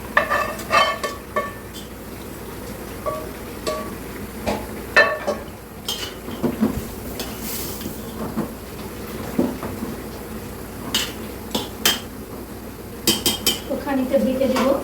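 Fried hilsa fish pieces go into a pan of water lily curry, with repeated metal clinks and clatters of utensil against pan, spread across the clip at moderate loudness and no talking.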